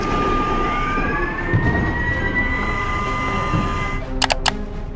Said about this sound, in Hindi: कल जम्मू में शाम ढलते ही हवाई हमलों के सायरन बजने लगे।